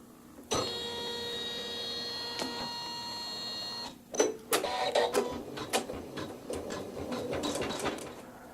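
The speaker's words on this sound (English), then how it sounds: "for step 14 I have my thread D in the needle only, and it's going to stitch some embroidery" An embroidery machine stitches a quilt-block embroidery design with thread D, its rapid needle hum running steadily and close, then breaking into uneven bursts and clicks as the stitching changes direction.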